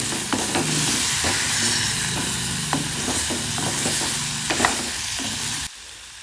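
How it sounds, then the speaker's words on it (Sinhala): Finely chopped long beans stirred into a tempered chilli mix in a hot pan, a steady close sizzle with repeated scraping spatula strokes and knocks, cutting off abruptly near the end. "ඊට පස්සේ අර පොඩියට අපි කපාගත්තු මෑකරල් ටික මම අර ටෙම්පරාදු කරගත්තු ලුණු මිරිස් එකට එකතු කරලා හොඳින් කවලම් කරගන්නවා"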